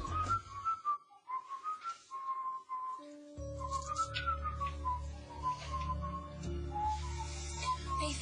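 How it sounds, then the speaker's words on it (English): A person whistles a wandering, melodic tune indoors, the notes sliding and trilling alone and clear at fairly low volume, with a soft background hum underneath. "Stop whistling."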